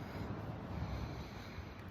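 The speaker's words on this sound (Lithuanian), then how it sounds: "Bangos ošia, nežinau ar girdėsit ar ne." Sea waves murmur on a shore in a continuous, even wash of soft broadband noise, fairly faint and unbroken, with some wind buffeting the microphone and no talking.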